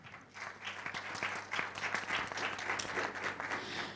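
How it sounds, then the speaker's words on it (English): Audience applause welcoming a speaker at a conference, sustained clapping from many hands that swells after a brief start and holds steady, moderately distant, with a faint electrical hum underneath. "So let's applaud for Noriyasu Sugimura-san"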